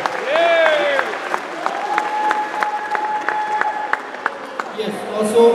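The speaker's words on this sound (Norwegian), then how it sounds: "Stor applaus til dere." An audience applauds at an international day cultural event in Ski, Norway, with dense, rhythmic clapping close by over sustained tonal sounds like singing or an instrument, swelling louder at the end.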